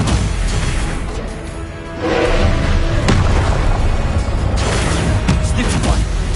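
A Stupefy spell cast in Hogwarts Legacy, heard as loud booming bursts with a sharp crack near the middle, over dense, continuous game noise.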